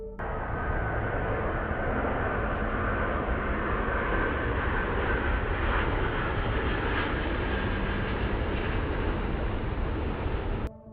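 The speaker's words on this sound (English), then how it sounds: "the Emirates Airbus 380, the world's largest passenger airliner and the 3rd biggest plane ever manufactured, flying past a group of plane spotters on its way to landing" Emirates Airbus A380 airliner flying past plane spotters on its way to landing, a loud continuous jet roar holding steady for the whole stretch before cutting off abruptly.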